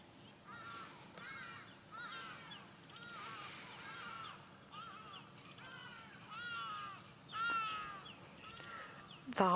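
Harsh, raucous calls of hadeda ibises at sunrise in the Sabi Sand bush, several loud squawks rising and falling over quiet ambience, fairly distant, with a few sharp closer cries near the end.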